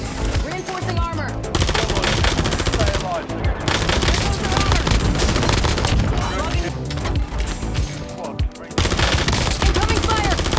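Dense video game gunfire rattles in rapid, sustained bursts of machine-gun fire mixed with booms and impacts, loud and continuous with only brief gaps, while a voice is faintly present underneath.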